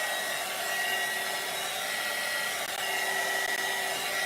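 A hair dryer blowing steadily across wet resin to shape clouds in a sunset clock, a continuous close, loud whooshing hum with no breaks.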